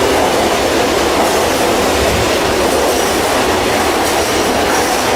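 A subway train runs along the track, a loud continuous rumble with rattling wheel clatter that holds steady throughout.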